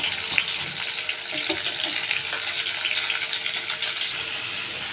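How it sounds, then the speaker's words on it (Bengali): Flat beans coated in salt and turmeric fry in a hot wok over medium heat, a steady dense sizzle that holds evenly throughout with a faint scrape or two underneath. "এবার আমি সিমগুলো কড়াইতে দিয়ে খুব সুন্দর করে ভেজে নেব"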